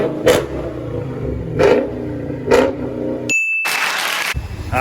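A 2020 Dodge Challenger Scat Pack with four-inch quad exhaust tips and the muffler and resonator deleted revs in three loud, evenly spaced blips, then a sharp cut and a brief burst of crowd noise.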